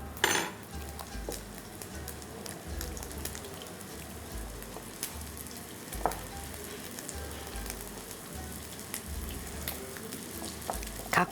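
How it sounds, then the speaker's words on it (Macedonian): Cornflake-coated chicken frying in hot oil, a continuous crackling sizzle with a low, regular rumble underneath and a few light utensil clinks, steady and close with no talk. "И ќе го ставам во врелото масло."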